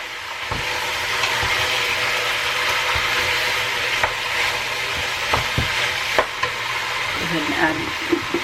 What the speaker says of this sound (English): so I'm gonna go ahead and add the meat in there